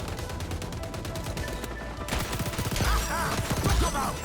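Rapid bursts of gunfire in an XDefiant match crack loudly in quick succession, pausing briefly before another volley, with game effects underneath.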